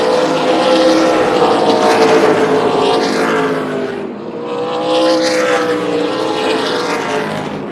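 Super late model race cars roar past at Tucson Speedway on a championship night, loud engines rising and falling in pitch as two waves of cars sweep by.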